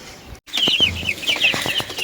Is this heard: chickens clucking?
yes